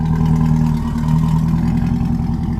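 A Satera Tuning shop car at Byron Dragway runs its engine close up with a deep, loud, throbbing idle and rev. The rumble is heavy and continuous, with no voices over it.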